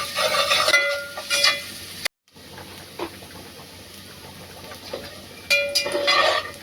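Onion sautéing in a pan until brown for chicken biryani, a close, hissing sizzle broken by spatula stirring and scraping, with a brief cut to near silence midway before the frying returns loudly.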